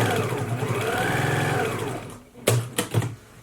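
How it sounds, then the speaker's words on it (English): Sewing machine stitching stretchy fabric, a steady whirring motor run for about two seconds that slows and stops, followed by a few short clicks and knocks of handling. "Again, I'm stitching that down."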